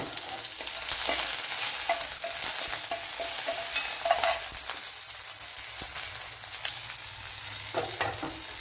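Dried red chillies go into hot coconut oil with mustard seeds, giving a steady bright sizzle and crackle with occasional stirring scrapes, close up and continuous.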